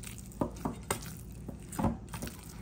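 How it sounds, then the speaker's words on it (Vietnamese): Minced chicken seasoned with salt, pepper, sugar, seasoning powder and fish sauce is stirred together in a bowl, giving soft, irregular wet scrapes and light clinks of the utensil, close and quiet. "giờ mẹ đang trộn đều lên nè"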